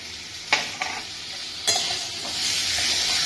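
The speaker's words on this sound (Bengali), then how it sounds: "এটাকে ভালো করে নাড়বো।" Turmeric and chili are stirred in a hot pan, with spoon strokes scraping through a steady, close sizzle of frying oil.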